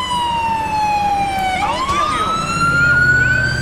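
A loud, continuous wailing police siren from GTA IV's NYPD Ford Fusion patrol car sweeps down and then climbs back up in pitch, close by, with engine rumble underneath.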